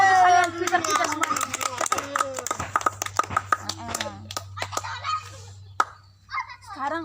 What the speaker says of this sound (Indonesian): Tepuk tangan untuk kalian kita semua.